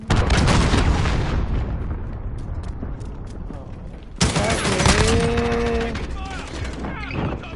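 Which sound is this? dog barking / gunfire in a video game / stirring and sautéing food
gunfire in a video game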